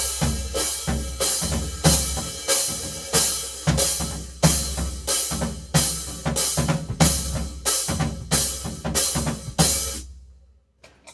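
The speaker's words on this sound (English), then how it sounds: "a bass drum with the cymbal on top" Bass drum with a cymbal mounted on top, played in a steady, marching-style pattern of sharp, loud hits, each a deep thump with a bright splashy crash that decays before the next, then stopping and ringing out.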